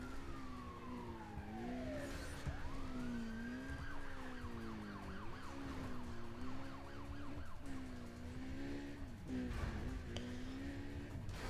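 Police car sirens wail and yelp in the racing game Need for Speed Undercover, several sirens rising and falling with rapid warbling sweeps over a low engine drone. They sound moderately close and play without any talk.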